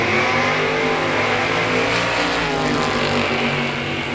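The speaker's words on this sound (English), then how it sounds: "Ray Barlow, 616 on the side of his Mustang, going up against Emily Alabach in the Camaro." A Ford Mustang and a Chevrolet Camaro accelerate hard side by side in a drag race, engines roaring loud and steady with a rising rev throughout.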